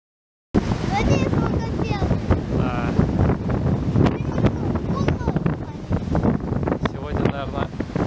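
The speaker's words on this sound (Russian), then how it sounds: "Сегодня, наверное, самые большие волны." Gusty sea wind buffeting the microphone over rolling waves on the Paphos coast in Cyprus, a loud, rough continuous roar with bursts of surf.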